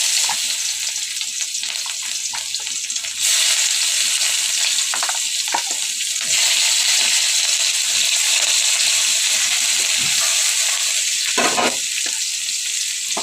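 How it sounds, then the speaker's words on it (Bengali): Five-spice seeds, bay leaf and onion sizzle in hot oil for a shuktoni dish, a loud, continuous close hiss and crackle that surges brighter twice as more goes into the pan, with occasional stirring clatter. "আমি পাঁচফোড়ন আর তেজপাতাটা দিয়ে দেবো দিয়ে দেওয়ার পর পেঁয়াজটাও দিয়ে দেবো"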